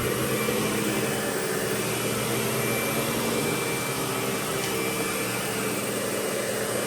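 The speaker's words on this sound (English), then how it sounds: "this is among one of the only vacuums I have that will make this hallway look good, because this carpet is just so old and matted" A Lindhaus Diamante 300 El vacuum cleaner, a fairly heavy machine of about 20 pounds, runs steadily over old, matted hallway carpet, its close, loud motor whine holding unbroken throughout with no talk.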